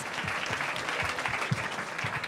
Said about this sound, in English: Please, one more time, give a big round of applause for our wonderful participants.